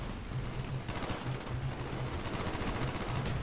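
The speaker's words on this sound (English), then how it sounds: "Oh my god, I'm getting shot at. Ow, from every which way." Dense, continuous gunfire crackles on all sides in Black Ops 1, a steady wash of rapid shots with no pauses and no talk over it.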